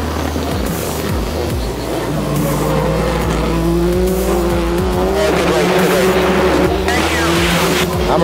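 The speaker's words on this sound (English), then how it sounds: "number 11 Subaru also rips off the line" A Subaru rally car launches hard off the start line, its engine roaring loud and close with rising revs and tyre noise, other race engines and crowd ambience filling the background.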